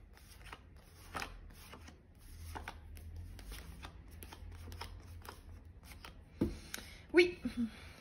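Tarot cards shuffled and handled close by, giving soft, irregular riffles and taps, with a few sharper clicks near the end.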